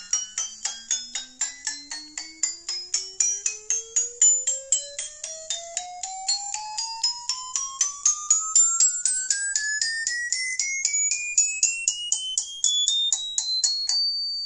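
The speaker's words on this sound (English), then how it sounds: "I want to let you listen to some music on these watches." Rising electronic scale of tinny beeping notes from a watch's built-in speaker, a single tone climbing steadily in small rapid steps over a continuous chime-like melody, thin and bright, with no talking.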